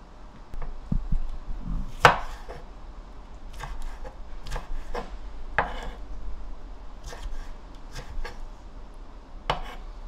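A knife slices through oiji, Korean pickled cucumber, on a cutting board, with scattered quiet taps and crisp cuts at an uneven pace, soft and close with light handling noise between strokes.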